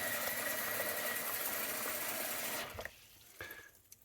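Tap water runs steadily into a basin for rinsing knitting yarn, a continuous rushing pour that cuts off, followed by a few faint drips and small splashes.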